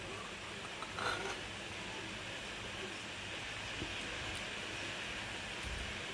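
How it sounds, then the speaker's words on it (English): Soft, steady hiss of rain falling outdoors, a faint, even wash of noise with a brief slightly louder patch early on and no voices. "It's raining out here."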